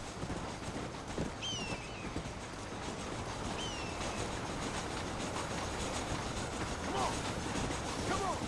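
A train rolls steadily in the Western game Red Dead, set in Mexico, with a damaged engine: a continuous dense rumble and rattle holds throughout, with faint squeals and clip-clop touches and no speech.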